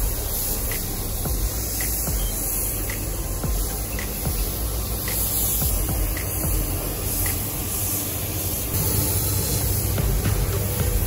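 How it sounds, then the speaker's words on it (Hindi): Spray gun applying clear coat to a Toyota Fortuner during accident repair and restoration, a steady broad hiss running continuously throughout, loud and close with no talk. "क्लियर कोट को स्प्रे गन से लगाया जाता है और प्रत्येक लेयर को सूखने दिया जाता है।"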